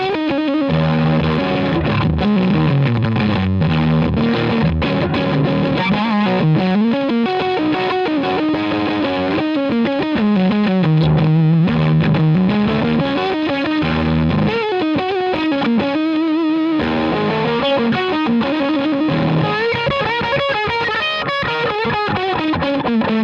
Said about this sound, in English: It's basically a recreation of a classic fuzz face pedal.